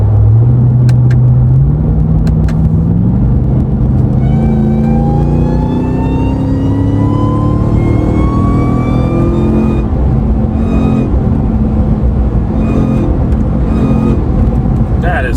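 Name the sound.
pickup truck engine revving with loud intake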